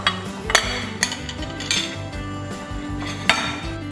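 A spoon stirs a King Ranch chicken casserole mixture with sour cream in a pot, giving repeated close scraping clinks against the metal at an irregular rhythm, with no talking.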